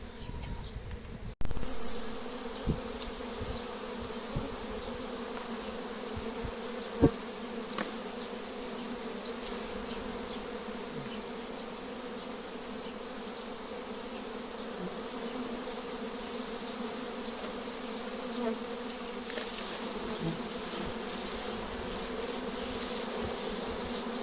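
A dense, continuous buzzing hum of a swarm of honeybees fills the air at steady loudness, with a brief knock near the start.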